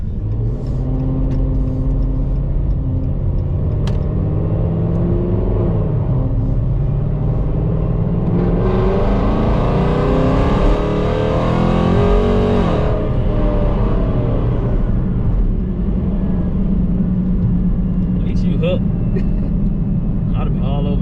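A ProCharged 5.7 Hemi Dodge Challenger accelerates from inside the car, a loud steady engine rumble rising to a whining supercharged peak before easing back, with people talking over it.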